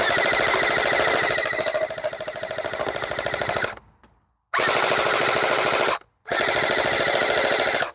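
A toy gel bead blaster fires in rapid full-auto bursts: one long buzzing rattle, then two shorter bursts separated by brief silences, loud and close.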